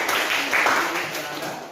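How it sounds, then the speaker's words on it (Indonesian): Students in a class clap for a group after its presentation, a brief burst of steady applause with a voice speaking over it. "Kita kasih tepuk tangan untuk kelompok"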